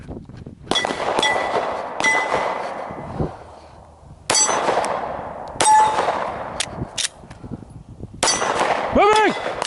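Gunshots ringing off steel targets at a shooting range, several sharp loud cracks each followed by a bright metallic clang, arriving in short bursts with pauses between, a ringing tone trailing the last hits.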